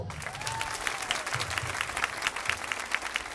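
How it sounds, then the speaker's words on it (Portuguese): A crowd at a political party convention gives a warm round of clapping, fairly steady with scattered sharper claps, while music or a sustained tone plays softly beneath. "Dona Ana, para quem eu peço uma salva de palmas."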